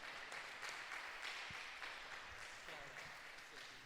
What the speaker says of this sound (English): big round of applause for our champion, Kobe Aiwaza.